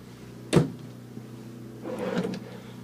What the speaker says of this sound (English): Pull-out drawers.